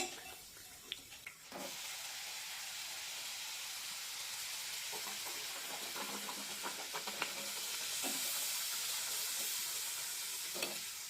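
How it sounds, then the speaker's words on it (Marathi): Banana puris deep-fry in hot oil over a low-to-medium flame, making a loud continuous hiss and bubbling, with a few clicks of a utensil turning them. "गॅसची फ्लेम लो टू मिडियमच ठेवायची आणि दोन्ही बाजूने पुऱ्या छानपैकी तळून घ्यायच्या"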